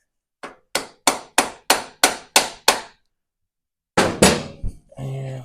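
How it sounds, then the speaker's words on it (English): A hammer taps a screwdriver on a 30-year-old Harley Davidson motorcycle that sat unused for over ten years: eight sharp, evenly spaced metallic taps close by, then a pause and two louder strikes with a rattling clatter. "we're going to grab a different screwdriver and a hammer and give this a couple tappy taps"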